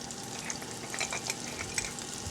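Butter and a half teaspoon of cinnamon sizzle in a pan, a soft crackling fry with light spitting pops, close but fairly quiet and alone.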